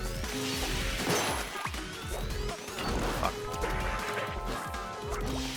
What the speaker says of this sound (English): Is this the only boss that uses a sound-based weapon?